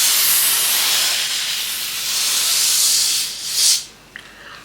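A spray applied to a synthetic HD lace wig during customization, a long continuous aerosol hiss that swells briefly near the end, then stops, followed by a couple of faint clicks.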